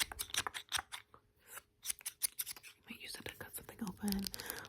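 Scissors snip repeatedly in quick, crisp bursts close to the listener, with soft whispering mixed in.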